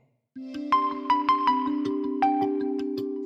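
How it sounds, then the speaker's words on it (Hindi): A phone alarm goes off at 3 AM, an electronic melody of repeated chiming tones that starts abruptly after a short silence and keeps ringing loud and steady. "जब मेरा अलार्म बजता है मैं उठ जाता हूँ"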